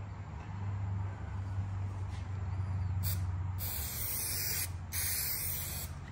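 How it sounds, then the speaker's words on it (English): A spray gun coats the undersides of valley table rails, giving three close, loud hissing bursts in the second half over a steady low background hum. "Spray them bottoms."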